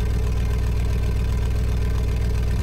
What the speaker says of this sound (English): then we'll press S to engage the starter